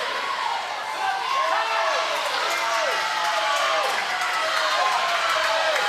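Timers cheer for a girl swimmer during a high school swim meet in an indoor pool, a steady crowd roar with whistle-like shouts rising and falling throughout, echoing under ongoing talk.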